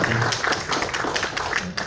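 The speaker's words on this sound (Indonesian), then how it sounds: "Tepuk tangan dulu untuk Pak Mufti." Brief scattered clapping from an audience welcoming a guest at an Indonesian Bappebti launch event, a short ripple of hand claps indoors.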